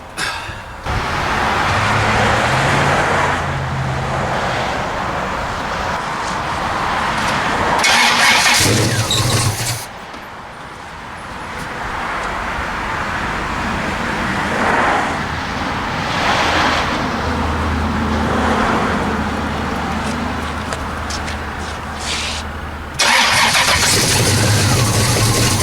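A Pontiac engine cranks over repeatedly to refill its fuel pump after a jump start, loud and close, in several long cranking bursts separated by short pauses.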